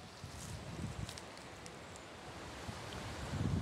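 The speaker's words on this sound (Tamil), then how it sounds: "காற்று அடிக்குது பாருங்க" Wind blows across a forested mountain hilltop as a soft, rough rumble of gusts buffeting the microphone, faint and continuous, swelling slightly toward the end.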